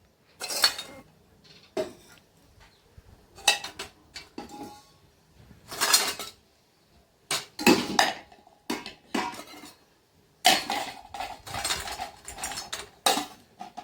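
Metal pots, pans and cutlery clatter and clink in a village home kitchen as utensils are handled and stacked, in irregular bursts of sharp knocks and rattles with short pauses between, fairly close and alone without talk.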